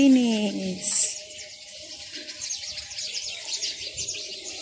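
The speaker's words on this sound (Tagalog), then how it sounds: "Narinig niyo yung mga ibon tsaka ano" Birds chirping and calling in a garden, a few bright calls at first and then a scatter of fainter tweets in the background.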